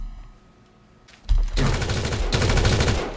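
Video game gunfire, starting after a quiet moment with a sharp report, then a sustained rapid burst of automatic fire that stays loud and dense to the end.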